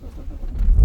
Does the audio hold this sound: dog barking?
no